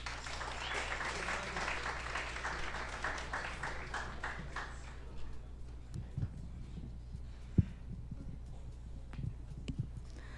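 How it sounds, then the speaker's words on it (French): An audience at an evening stage talk applauds, a dense patter of many hands that fades out after about five seconds, leaving scattered claps and faint room noise. "On l'applaudit."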